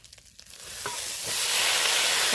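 Khesari greens hit a pan of frying ginger: faint clinks at first, then a hissing sizzle that swells and stays loud and close.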